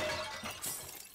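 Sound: vases smashing in the video game Resident Evil Village

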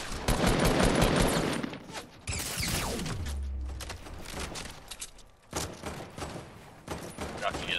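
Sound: gunfire in a video game shootout

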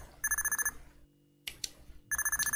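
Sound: telephone ringing

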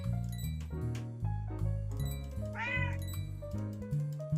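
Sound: cat meowing in the video game A Building Full of Cats

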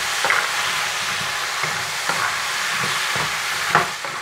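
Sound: stir-frying chicken with cashew nuts

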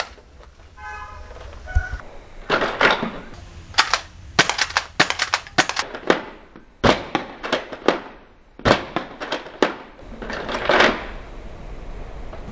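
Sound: Nerf toy gun shooting rounds

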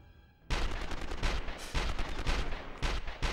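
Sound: gunfire in the video game 24: The Game

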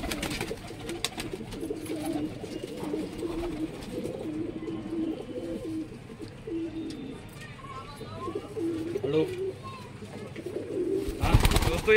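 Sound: high flyer pigeons cooing at a pigeon market

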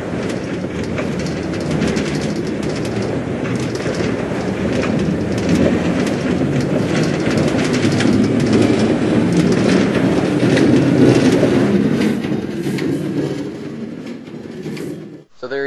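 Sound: Minecraft minecart traveling on rails, video game

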